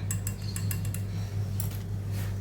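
A spoon stirring white chocolate tinted with colouring in a bowl, light clinks and scrapes against the bowl in quick bursts over a low steady hum, close by.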